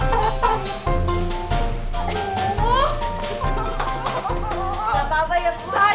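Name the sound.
chicken clucking inside a house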